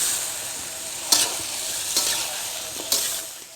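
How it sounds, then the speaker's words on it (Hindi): Steady sizzling of meat frying lightly in a karahi for Peshawari charsi karahi, with a few sharp stirring scrapes cutting through at intervals. "थोड़ा सा हम इसको करेंगे फ्राई हल्का सा"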